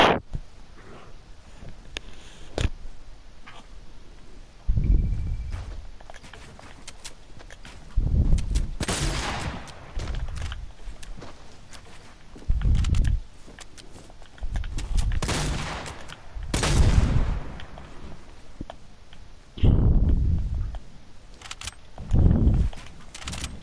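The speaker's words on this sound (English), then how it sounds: "I can hear sniper shots" Sniper rifle fire in a PS4 shooter, a series of muffled booming shots arriving every few seconds, distant-sounding, each with a short rumbling tail over a quiet background.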